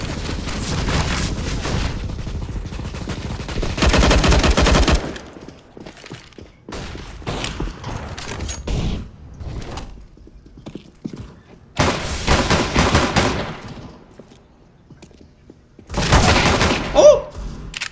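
CSGO gunfire comes in bursts of loud, rapid shots separated by quieter stretches of in-game footsteps and clatter, with the heaviest volleys near the start, middle and end.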